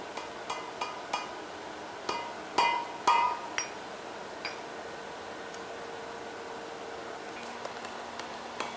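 Hammer blows set a forge weld on a chain link. Scattered, faint metallic taps and clinks ring out at irregular intervals, with a couple of sharper strikes in the middle, all at a distance.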